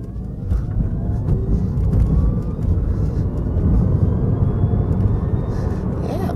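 A Mini Cooper Electric car accelerating on a loop, heard as a steady, fairly loud low rumble of motor and road noise that stays even for several seconds without clear gear changes.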